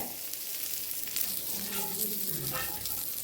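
Brinjal (eggplant) coated in garlic masala fries on a tava over medium gas, giving a steady, close sizzle with soft crackles and no talking.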